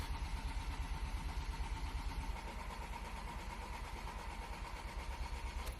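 A Ford Focus RS engine, mid turbo conversion, cranks over on the starter with a steady rapid chugging rhythm that holds for several seconds, loud and close with no talking.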